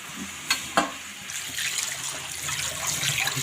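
Vegetables for traditional Bhogi bhaji are rinsed under running water in a kitchen colander, with a steady splashing, trickling wash after a couple of sharp knocks at the start, close and moderately loud with no talking.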